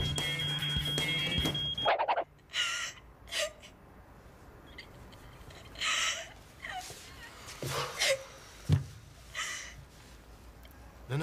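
A smoke detector alarm gives a piercing, steady high tone for about two seconds and then cuts off abruptly. Gasps and agitated voices follow in a room.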